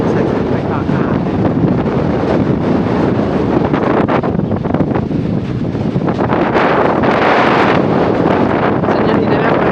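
Strong wind batters the microphone in a rural hill village, a loud continuous roar of buffeting rumble and gusty hiss that surges and eases for nearly ten seconds.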